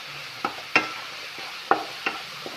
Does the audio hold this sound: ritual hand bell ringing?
no